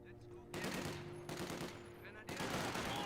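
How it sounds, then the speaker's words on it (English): An MG42 machine gun fires in Company of Heroes 2 in rapid, rattling bursts. There is a brief pause after the first burst, then the sustained fire resumes loud and close against a low game background. "MG42 versus conscript squad. Go MG42."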